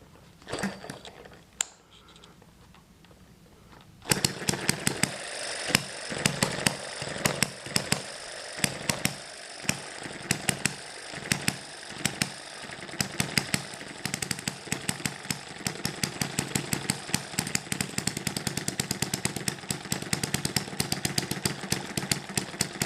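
An Eachine ET1 hit-and-miss model engine, loaded by a finger dragged on its flywheel, firing continuously: after a quieter opening with a few pops, sharp rapid explosive bangs start and repeat in a fast steady rhythm, loud and close.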